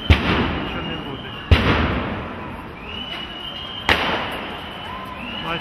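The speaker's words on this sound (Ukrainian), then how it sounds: "може це і петарди" Firecrackers burst in a narrow street during crowd unrest, with stones and junk being thrown: three sharp, loud bangs about two seconds apart, each trailing off over a constant murmur of crowd noise and voices.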